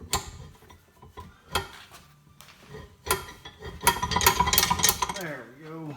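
An old Hollands machinist vise, freshly loosened with penetrating oil, being cranked by hand, giving irregular metallic clicks, scrapes and ratcheting squeaks that grow busier toward the end, close and fairly quiet.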